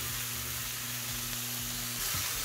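Shiitake mushrooms sautéing with onion and a little salt in a pan, a steady close sizzle with a faint low hum underneath, swelling slightly louder near the end.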